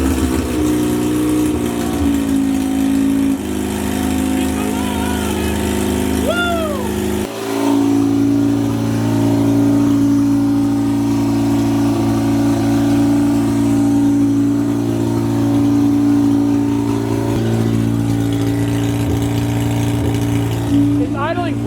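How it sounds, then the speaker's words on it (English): Mazda RX7 rotary engine idling loudly and steadily after repairs, with a low, even drone that shifts pitch once and keeps going, while people talk nearby. "It's idling perfectly."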